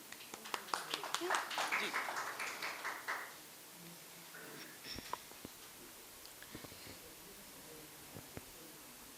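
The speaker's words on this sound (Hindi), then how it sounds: "आप सब लोगों से फिर से आग्रह करूंगी तालियों के लिए।" An audience at a Hindi poetry gathering at Brihaspati Kala Kendra claps in a dense burst for about three seconds. Scattered claps follow as it dies away, with soft voices underneath.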